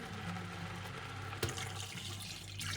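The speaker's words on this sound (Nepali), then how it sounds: "अब हामीलाई चाहिने जति पानी हालिदिने।" Water pours steadily into a pan of melted cheese for Rildok, a traditional Himalayan potato dish, making a continuous close splashing rush with one small clink partway through.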